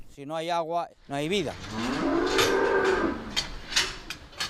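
Cows moo a couple of times nearby, long wavering calls, followed by a lower groaning moo amid outdoor noise.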